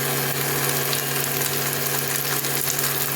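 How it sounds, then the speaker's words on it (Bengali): Chopped onion, garlic and capsicum frying in a pan for chilli pasta, a steady close sizzle with a low constant hum underneath and no voices. "এখন আমি এই পেঁয়াজ কুচানোগুলো একটু ভেজে নেবো হালকা করে।"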